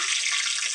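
Bonda fritters frying in hot oil give a steady, dense hiss of bubbling and sizzling, close and continuous, with no voices.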